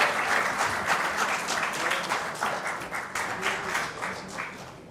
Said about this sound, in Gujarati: અને એકવાર ખૂબ તાળીઓનો વિવેક સાહેબ માટે હોવો જોઈએ